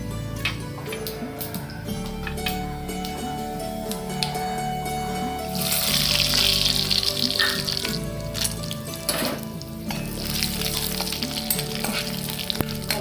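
Grated coconut and a few peanuts fry in a hot tempering with tamarind water for Jain-style dal kachori, giving a steady, close sizzle with soft stirring clicks and no talking.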